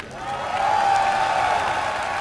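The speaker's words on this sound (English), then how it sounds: "The crowd already ready to cheer him on" Crowd at the MLG Columbus 2011 StarCraft II tournament applauds and cheers in a steady, distant roar that swells slightly in the middle and holds without pause.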